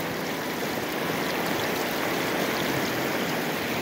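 Steady rushing, splashing flow of water through a sluice box used for gold prospecting in Alaska, loud, close and continuous with no talk.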